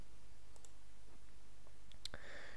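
A few soft mouse clicks sound while a Shopify store page is built in a website editor, quiet isolated taps spaced apart, the last slightly louder and followed by a brief faint chime, with no talking.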